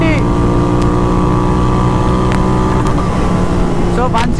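A Royal Enfield GT 650 with a Powertronics ECU pulls hard under full throttle at high speed, a steady loud engine drone mixed with heavy wind rush, and a voice talks over it near the end.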